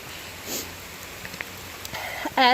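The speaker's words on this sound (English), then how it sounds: "hopefully by the end of the weekend, the rain will let up" Rain falls on a hiking trail, a soft steady patter with a few distinct drops, close by and fairly quiet, before a sudden louder burst at the end.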